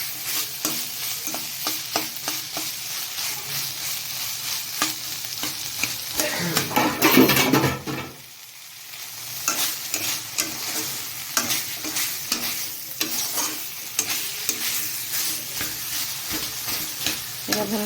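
Boiled chickpeas for sola chana curry sizzle in oil with masala while a spoon scrapes the pan in quick, steady strokes, with a short burst of louder frying midway.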